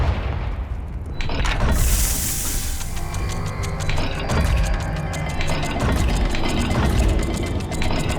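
A Confringo blasting spell goes off in Hogwarts Legacy with a loud, rumbling explosion that swells after a second, then trails into sustained crackling and mechanical clatter.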